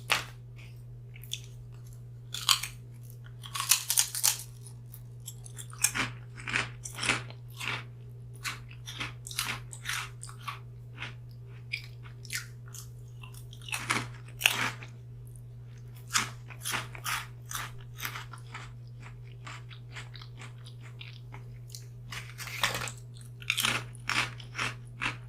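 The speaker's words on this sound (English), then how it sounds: "Very salty and very buttery. I approve of that chip. Very crunchy." Crunchy, salty buttery potato chips being bitten and chewed up close, with repeated crisp crunches and bursts of chewing spread across a quiet room over a low steady hum.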